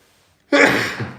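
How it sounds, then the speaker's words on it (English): A single loud sneeze from an adult during a live talk about feelings and moods, bursting suddenly after a near-silent pause and tailing off over about half a second. "Sorry for the sneeze"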